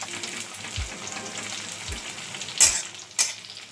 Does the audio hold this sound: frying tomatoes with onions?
yes